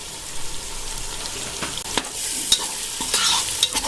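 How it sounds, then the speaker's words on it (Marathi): Chicken biryani mixture is stirred in a pot after salt and biryani masala go in, giving a loud, close, continuous scraping stir with a light sizzle and occasional sharper clinks of the spoon, with no talking. "सगळं मिक्स करून घेऊया"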